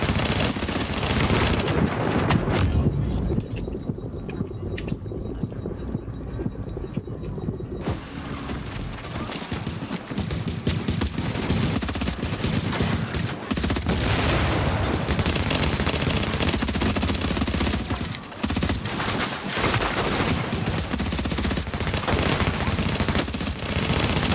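Rapid bursts of automatic gunfire and single shots in a video game are loud and close, firing in dense, continuous volleys with brief gaps.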